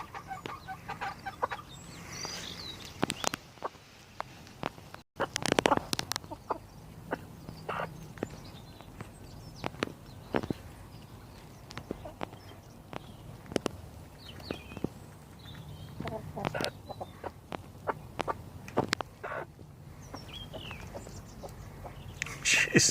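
A hen named Maz clucks near the coop in a February allotment kitchen garden, rushing to grab food; short intermittent clucks and scratchy footsteps come and go over quiet outdoor background, fairly close.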